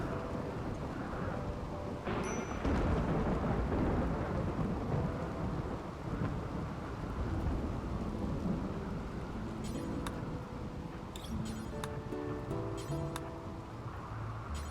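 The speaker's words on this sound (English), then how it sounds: "I don't want to listen to thunderstorms for 17 days." Rainy thunderstorm weather in the video game RimWorld: a continuous wash of rain with low rolling thunder, joined by faint tonal game chimes and clicks later on, heard throughout at low volume.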